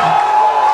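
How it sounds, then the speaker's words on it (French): Crowd of party supporters at a political gathering in Côte d'Ivoire erupts in loud, sustained cheers and joyful shouts, a dense roar of voices continuing without pause before cutting off abruptly. "Applaudissements et cris de joie pour saluer ce qui est considéré par les partisans du FPI comme une grande nouvelle"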